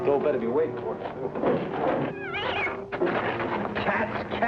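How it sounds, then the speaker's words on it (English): Cats meow and caterwaul in a series of wavering, rising and falling cries, mixed with street noise and nearby voices talking. "Cats."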